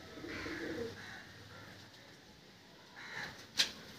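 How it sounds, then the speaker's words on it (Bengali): Pigeons in a loft give soft, low cooing calls in two faint bursts separated by a quiet stretch, followed by a single sharp click near the end. "তো বন্ধুরা পায়রা দেখো।"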